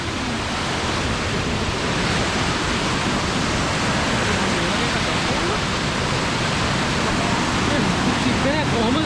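Waterfall at Waranagala, a loud broad roar of rushing water filling the whole stretch steadily, with people talking faintly beneath it.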